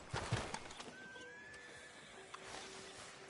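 A horse in the video game Red Dead Redemption 2 gives a drawn-out whinny, with clip-clopping hooves and soft ambient noise around it; no one speaks.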